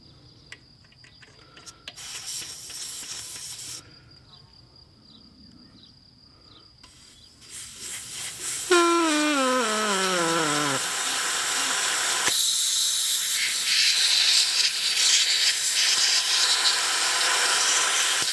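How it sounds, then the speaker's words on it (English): Steady air hissing from a tyre valve as a compressor hose is screwed on, rising after some handling clicks and continuing loud and even to the end. "I'm just going to take the valve cap off, and we'll screw this on, and air should come out."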